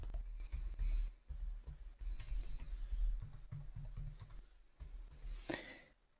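Computer keys and clicks are entered in quick bursts of light tapping, fairly close and moderately soft, with short pauses between runs and a sharper click cluster near the end.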